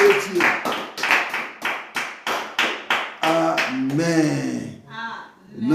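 A church congregation claps in a steady, rhythmic beat while voices loudly acclaim God, the claps sharp and evenly spaced under the chanting before they give way to sustained voices.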